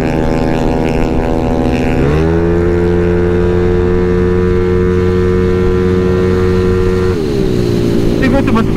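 A car engine is held at high RPM and revved hard, a loud, close, sustained buzzing drone whose pitch drops and rises again, with people talking over it.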